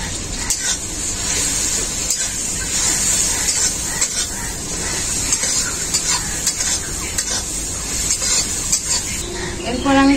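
Tomato and onion sizzle and fry in a pan as turmeric powder is stirred in, with a steady close hiss and scraping stirring strokes throughout, no talk.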